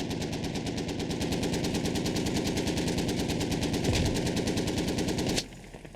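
A vehicle-mounted machine gun in the tactical shooter Squad fires one long, continuous rapid burst at close range, loud and steady for over five seconds before cutting off abruptly, with no talking.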